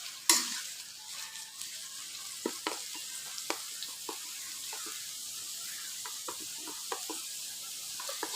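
Dried Bombay duck fish frying in oil in a pan, a steady close sizzle after a sharp initial hiss as the fish goes in, with occasional clicks of stirring.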